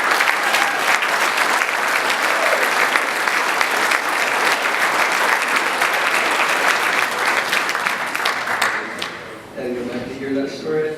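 Loud, sustained applause and clapping from an audience at an awards night fills the room for about nine seconds, then tapers off as a voice begins speaking.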